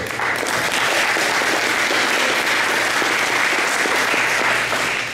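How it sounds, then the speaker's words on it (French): Audience at a press conference applauding, a steady dense wash of clapping from many hands, sustained and even for the whole stretch with no speech over it. "Encore une main d'applaudissement"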